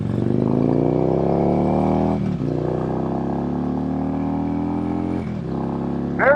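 A 2009 Harley-Davidson Road King motorcycle engine revs up close in rising pulls through successive gears, with brief dips at each shift and a final quick blip at the end.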